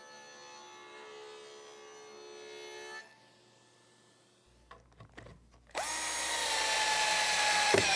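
A power tool, an angle grinder converted into a sliding cutoff saw, spins down and then bites into a wooden blank, ending in a loud rising whine of cutting.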